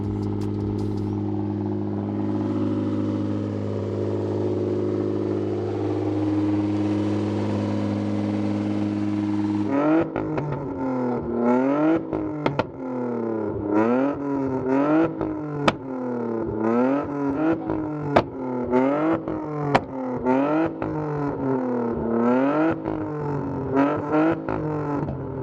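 BMW E30 with an M52 engine idles with a steady drone, then switches to loud, repeated sharp revving blips in a quick rhythm, close and unbroken by talk.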